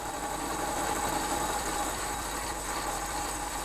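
Lathe rough machining a steel spindle, a steady droning machine hum with a fine rhythmic chatter and a faint cutting hiss, continuous and close with no talk.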